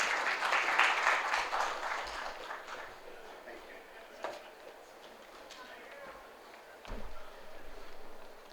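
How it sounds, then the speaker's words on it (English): Audience applause at a live startup pitching summit in India swells loudly at first and then fades into scattered clapping, with a voice talking over it and a few stray knocks in the room. "A big round of applause, guys."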